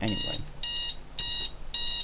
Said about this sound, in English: that is the alarm going off.